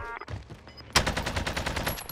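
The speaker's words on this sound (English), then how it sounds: "I'm being shot from various angles here." Rapid automatic gunfire crackles in a battle royale video game, a dense burst of shots following quieter game noise, close and loud without speech.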